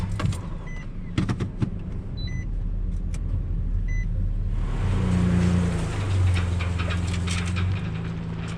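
A car cruises through farmland in Colorado, its engine and road rumble a steady low drone inside the cabin, with scattered clicks and a couple of faint beeps over it.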